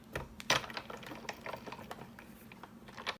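A card base is run through a die cutting machine, giving a close, quiet series of irregular mechanical clicks and ratcheting grinds, with one louder clack near the start and another near the end.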